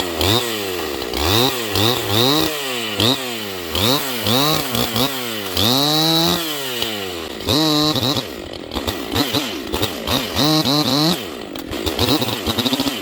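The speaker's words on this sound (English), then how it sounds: "just cutting firewood today. So I'll be in and out, and I'll do some falling, and let's put some more time on this here vintage power saw" A vintage Husqvarna 268 chainsaw cuts firewood outdoors, its engine repeatedly revving up and dropping back in rapid rising and falling surges, then holding steadier under load, loud and close with no talking.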